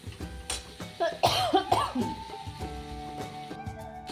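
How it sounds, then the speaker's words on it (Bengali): Several close, harsh coughs burst out in a home kitchen while onion, bay leaf, ginger-garlic paste and ground spices fry, with a low background hum of cooking around them. "কাশি আসছে"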